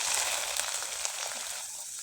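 Syringe pitha made with ripe palm fruit fries in a small amount of oil, giving a steady, close hiss that keeps an even level the whole time with no voices.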